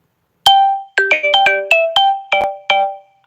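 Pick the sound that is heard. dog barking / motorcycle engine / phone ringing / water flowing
phone ringing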